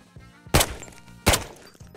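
Two sharp, punchy gunshots from a 9x19 MP5 submachine gun in Ghosts of Tabor, about three-quarters of a second apart, each a loud close crack that quickly decays.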